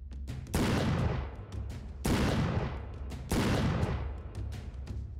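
Three loud, booming gunshot bursts, each decaying over about a second, fire against a low ambient drone while zombies are shot in a fog-filled Game Guru video game scene.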